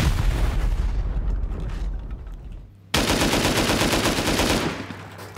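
Rocket blasts and heavy gunfire during a raid in a first-person shooter, a loud dense barrage that breaks off into a brief near-silence and then resumes just as intensely.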